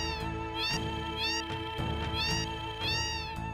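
Cats in the cat house of the Final Fantasy VII video game meow in a loud, repeated chorus, long rising and falling calls overlapping one after another over a steady game backdrop.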